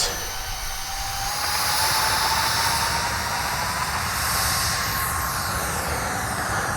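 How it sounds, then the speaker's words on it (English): An E-flite twin 30mm EDF B-2 bomber RC plane taking off, a loud, steady whooshing whine from the electric ducted fans that holds near and constant, with no talk. "All right, pretty uneventful takeoff."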